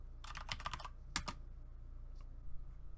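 Quick bursts of typing on a computer keyboard into a command prompt, two short clusters of crisp close keystrokes followed by a few scattered taps in a quiet room.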